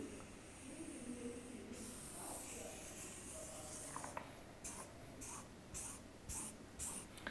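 A pen writing on a surface, close and quiet, with soft continuous scratching that breaks into short repeated strokes near the end. Faint background hiss runs throughout.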